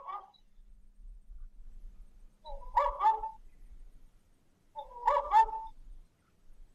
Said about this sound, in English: We've got the sound of a barking owl.